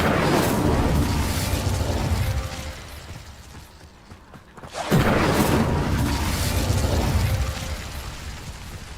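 Loud fiery bursts from the Incendio fire spell in Hogwarts Legacy, a roaring blast that fades around the middle before a second sharp whoosh of flame erupts and sustains to the end.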